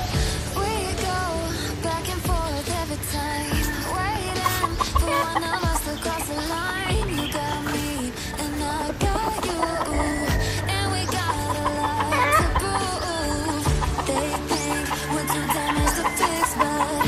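Chickens and gamefowl on a game farm cluck and call continuously, a dense, loud chorus of overlapping birds with occasional crowing, no talk.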